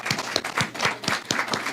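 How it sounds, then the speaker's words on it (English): An audience at a community memorial celebration claps in a brisk, sustained round of applause, close and fairly loud, with individual hand claps audible in the mix. "Please clap. Yeah, round of applause."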